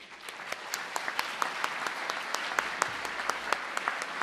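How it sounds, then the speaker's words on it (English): A dinner audience at a food and drink awards evening claps steadily, a dense roomful of hands with a few sharper claps standing out, continuous and fairly distant without voices. "So give yourselves a round of applause"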